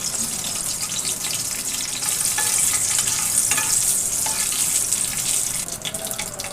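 A halved bay leaf, a dried red chili and whole cumin seeds sizzle in hot oil, a loud, continuous close-up frying hiss that stays steady throughout.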